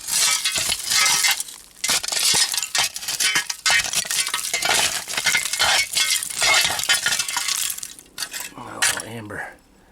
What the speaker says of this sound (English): An old soda fountain glass there.